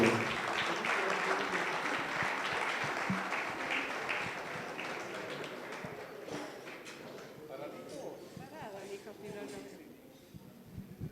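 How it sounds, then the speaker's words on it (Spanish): Audience applause at an anniversary gathering of a recovery group in Pachuca, a broad wash of clapping that holds steady for several seconds, then thins and fades toward the end with some voices mixed in. "a quien pido un aplauso para ella"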